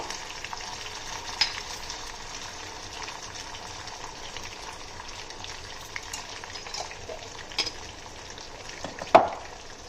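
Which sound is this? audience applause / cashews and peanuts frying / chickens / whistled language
cashews and peanuts frying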